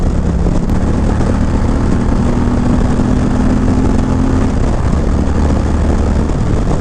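Steady, loud broadband wind roar from riding an electric motorcycle on the road in India, a continuous rushing buffet with a faint low tonal whine beneath, no talking.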